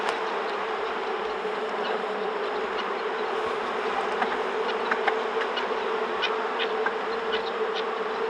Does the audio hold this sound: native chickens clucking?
no